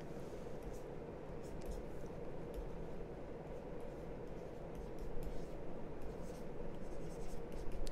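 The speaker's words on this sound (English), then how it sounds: "I have a drawing tablet" Pen nib scratching and sliding across a drawing tablet surface in steady, continuous strokes, close and fairly quiet, with a brief louder stretch of drawing toward the end and no talking.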